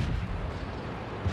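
Tank cannon round striking a KV-85 tank in World of Tanks, a dense, booming low rumble sustained through the whole short moment, with no talking.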